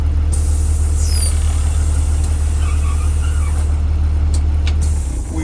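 A school bus engine idles loudly and steadily close by during an air brake test, with a few faint squeaks, and the level begins to drop just at the end.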